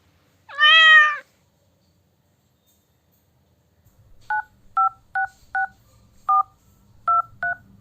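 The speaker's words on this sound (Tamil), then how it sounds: "என்னோட ஃபோன் ரிங் ஆகுது" A phone rings as a string of short, two-tone electronic beeps in an uneven pulse, preceded by one loud cat meow and a quiet pause.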